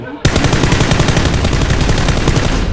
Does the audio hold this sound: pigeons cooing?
no